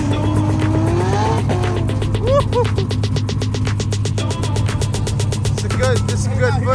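Several cars race on an airstrip, engines roaring up close as tires squeal repeatedly in bursts and skids, with people talking over the continuous motor noise.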